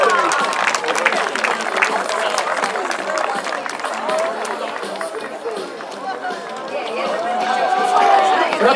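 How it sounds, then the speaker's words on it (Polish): Crowd applause and cheering at a knights' combat tournament of five-person retinues, a dense, steady roar of clapping and voices lasting throughout, loud and close with an announcer's voice over it. "Brawa! Brawa dla niej,"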